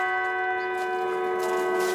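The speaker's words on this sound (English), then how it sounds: "Bells toll for Anthony Heffernan." A church bell tolls at a funeral in Prince Albert, a sustained, ringing, resonant tone that hums steadily and stays loud throughout.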